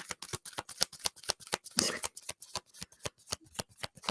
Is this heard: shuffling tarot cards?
yes